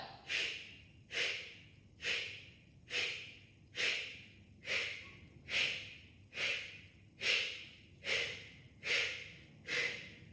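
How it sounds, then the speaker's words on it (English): Breath of fire, a rapid rhythmic breathing exercise in a kundalini kriya practice: about eleven sharp, evenly spaced nasal exhales, close and fairly soft, each a short puff followed by a quiet gap. "Close your eyes, it's breath of fire."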